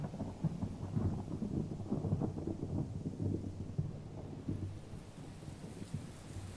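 Thunderstorm with steady rain in the video game Tales of Berseria: a dense, continuous hiss of rainfall over deep rolling thunder rumbles, loud and enveloping throughout, with no voices.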